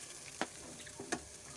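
Chicken pieces with boiled carrot fry in a pan for chicken soup noodles, giving a faint steady sizzle with a few soft clinks of stirring.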